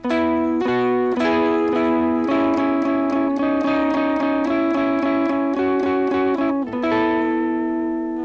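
An electric guitar closes a phrase with a held ending note. Quick picked notes ring over a sustained tone before it settles into a fading final note, close and clean, with no talking.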